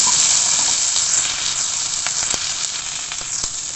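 Sliced drumsticks and brinjal sauté in a pan for kara kuzhambu, giving a loud, close, steady sizzle with scattered crackles and a few stirring scrapes, no speech.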